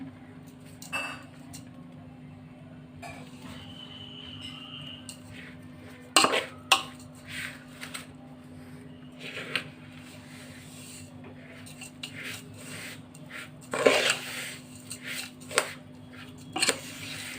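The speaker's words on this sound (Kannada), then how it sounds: "ಸಕ್ಕರೆ ಹಾಕೊಂಡು ನಾನು ಮಿಕ್ಸ್ ಮಾಡ್ಕೊತಾ ಇದ್ದೀನಿ" A spoon scrapes and clinks in a metal pan while sugar is stirred into white semolina for rava laddu, with soft irregular scraping and occasional sharper taps over a steady low hum.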